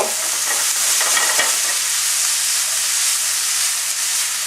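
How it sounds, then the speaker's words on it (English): Vegetables sauté with lemon juice in a too-small pan, giving a loud, steady sizzle and steamy hiss while they are stirred and tossed, with no speech. "Now I'm sauteing, and then with the moisture from the lemon, it is also adding a little bit of steam to it as well"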